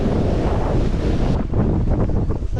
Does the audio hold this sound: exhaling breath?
no